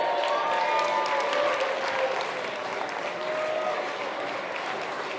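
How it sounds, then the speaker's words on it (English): A crowd claps steadily and densely, loud at first and tapering slightly, with faint cheering mixed in. "Please give them a big round of applause"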